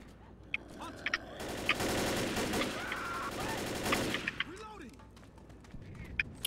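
Rapid automatic gunfire in the zombie shooter Left 4 Dead: a dense, loud burst of shots lasting a couple of seconds, framed by scattered single shots and clicks, with game effects in the background.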